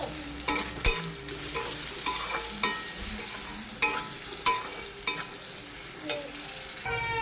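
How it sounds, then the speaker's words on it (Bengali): Onion, tomato, ginger and garlic fry with salt in a pan, sizzling steadily while a spatula clinks and scrapes against the pan in irregular sharp knocks, close up and with no voices. "তো পেঁয়াজ, টমেটো, আদা রসুন সব লাল করে ভাজা হয়ে গেছে।"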